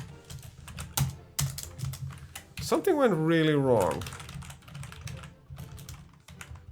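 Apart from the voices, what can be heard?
computer keyboard keys being pressed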